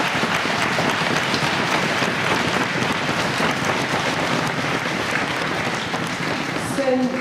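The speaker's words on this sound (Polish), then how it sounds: "ogromne brawa" Large audience applauding at a Polish majorette championship opening ceremony in a hall, dense continuous clapping that fills the space loudly from start to finish.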